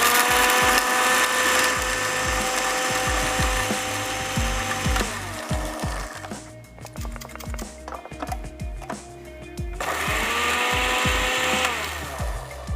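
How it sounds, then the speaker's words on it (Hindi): A loud electric blender grinds spices, whirring continuously, its motor pitch dropping and rising as it grinds, with rattling bursts throughout. "किसी भी मिक्सर, ब्लेंडर, हामन दस्ते में पीस लीजिए।"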